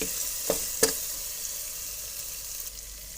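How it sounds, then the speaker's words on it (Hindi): Masoor dal lentils go into hot, frying spice masala: a steady close sizzle with two quick clatters near the start, then continuous frying hiss alone. "दाल डाल दी हमने"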